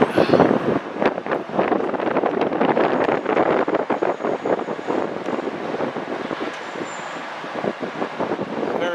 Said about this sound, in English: About 60 degrees with a wind coming out of the north